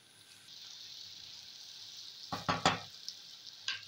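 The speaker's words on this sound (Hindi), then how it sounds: "बस इसे मैं फ्राई करती जाऊंगी ताकि प्याज भी फ्राई हो जाए और आलू भी मज़ीद फ्राई होते जाएं।" Onions and potatoes fry in a pan for aloo bhurji with a soft, steady sizzle, broken by a few louder scraping stirs near the end.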